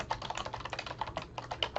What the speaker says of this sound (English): You can just click in the box and start typing.